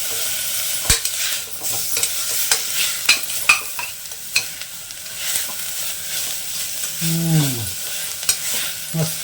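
Chillies and tomato go into a hot pan for a cluster beans curry, setting off a soft steady sizzle while a spoon scrapes and clicks against the pan in irregular strokes.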